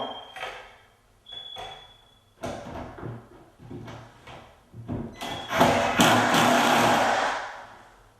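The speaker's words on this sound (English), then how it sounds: "Now I can put my door back on." A wooden shaker cabinet door is refitted after crown moulding is installed, giving a series of close thumps, knocks and scraping handling noises that build into a louder, denser clatter toward the end.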